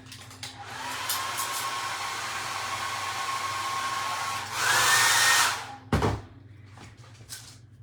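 A hair dryer runs steadily to dry red paint on a DIY wooden craft, a close whooshing drone that rises briefly before cutting off, followed by a thunk and faint handling noises.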